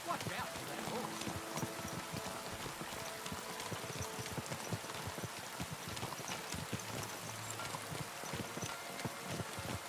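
Horse hooves clip-clop in the medieval video game Kingdom Come: Deliverance, a continuous run of quick hoof strikes over a noisy, rain-like background.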